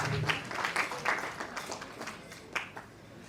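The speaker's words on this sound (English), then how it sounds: "a round of applause again." An audience at a law school moot court competition claps in a moderate round of applause that gradually fades, with scattered individual claps toward the end.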